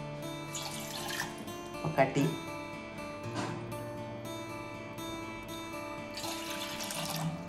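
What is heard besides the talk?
water being measured and poured from tap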